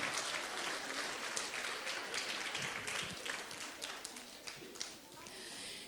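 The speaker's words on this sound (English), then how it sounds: "let's give grade 5 a big round of applause" Faint, continuous audience applause for a grade 5 presentation at a school art and science fair, a distant wash of many clapping hands that stays even and slowly tapers.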